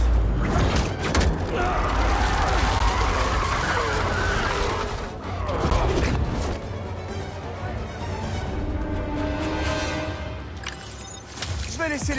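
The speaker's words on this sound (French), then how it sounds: "Je savais pas qu'on faisait du drift à New York." A car drifting and skidding in the Spider-Man 2 video game, with a loud engine roar, tire squeals and thuds, under game voices and music.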